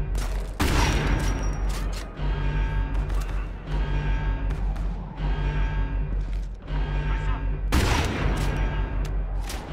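Gunfire in the video game Homefront: The Revolution, with loud, repeated bursts of rapid shots separated by short pauses, each volley booming and echoing over a steady low rumble, with hardly any talk.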